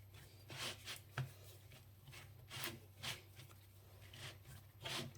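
Meat pie dough kneaded by hand on a floured sheet, with quiet soft rubbing and pressing strokes repeating in a loose rhythm, close up and alone.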